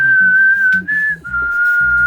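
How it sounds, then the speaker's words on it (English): A woman whistles a thin, steady tone for about two seconds, with a brief pitch jump partway through, while low noise rumbles in the background inside a van under renovation. "She has the weakest whistle in the world"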